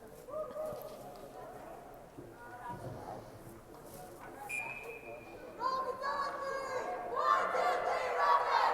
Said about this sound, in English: There you might have been able to hear the Rockets on 3, 1, 2, 3 Rockets cheer